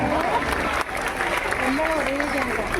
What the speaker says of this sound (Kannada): ಜೋರಾದ ಚಪ್ಪಾಳೆಗಳಲ್ಲಿ ಮಕ್ಕಳೆಲ್ಲ.